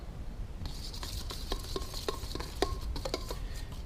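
Salt, pepper and Mexican taco-style seasoning being mixed into a paste for roasted pork loin, a run of light scraping and tapping strokes against a bowl, close and fairly quiet, no talk.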